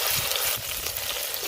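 Crushed garlic sizzles in hot sweet oil in a pan, a loud, steady, close frying hiss with no talk.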